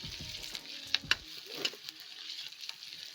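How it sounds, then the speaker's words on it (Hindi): Dried lentil dumplings (badiyan) sizzle in hot oil with onions for a Pahari-style kadhi, a steady close crackle broken by a few sharp pops and spatters. "बड़ियों को हम डालते हैं प्याज के साथ ही भुनने को"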